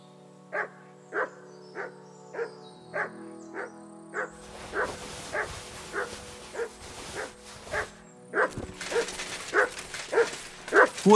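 A dog in the video game Kingdom Come Deliverance II barks repeatedly in a steady rhythm, sharp close woofs and yips continuing throughout over quiet game ambience.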